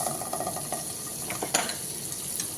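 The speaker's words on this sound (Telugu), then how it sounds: "అలాగే ఇప్పుడు బటర్ మళ్ళీ వేసుకుంటున్నా" Butter sizzling softly in a pan for prawn biryani while a spoon stirs and scrapes, a faint steady crackle with a few light clinks of utensil against metal.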